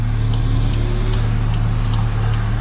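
A Volkswagen MK8.5 GTI fitted with a Rev9 exhaust runs with a close, steady low engine hum and a few faint, sharp ticks on top. No clear rev rise stands out.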